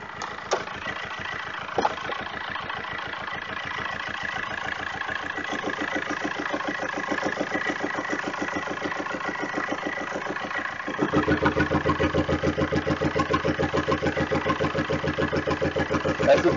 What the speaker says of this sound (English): That's what the turbo sounds like.